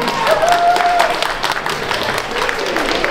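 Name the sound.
audience applause for child cosplay contest winners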